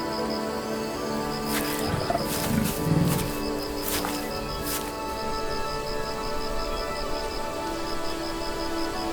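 A lioness growls and rumbles low amid wild savanna ambience during the dry season, with a few louder snarling bursts early on, over a steady background of insects and birds.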